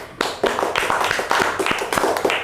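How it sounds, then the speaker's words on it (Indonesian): A small group clapping hands in a classroom, brisk uneven claps close by, sharp and fairly loud, continuing steadily throughout. "Yo, tepuk tangan dulu buat semuanya."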